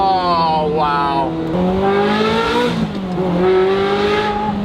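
A Ferrari engine pulls at partial throttle while driving, a loud, steady harmonic drone that dips and rises in pitch as revs change, heard from close by inside the car.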